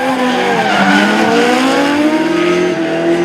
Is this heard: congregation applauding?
no